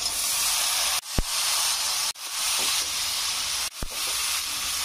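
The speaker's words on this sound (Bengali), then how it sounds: "ভালো করে আমি কষে নেবো।" Potatoes and chopped vegetables for a fish-head chorchori with telakucha stems sizzle loudly in hot oil, a steady dense frying hiss broken by three brief gaps where the pan is stirred.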